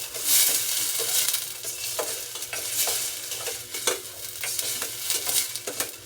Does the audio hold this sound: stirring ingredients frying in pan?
yes